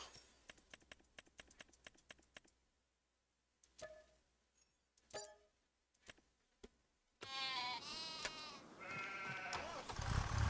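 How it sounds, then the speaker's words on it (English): Sheep of several breeds bleat in the farming video game Farming Simulator 25. A quick series of clicks and short taps comes first, then a gap, then loud overlapping bleats with no speech. "Each one's getting, a different breed of sheep"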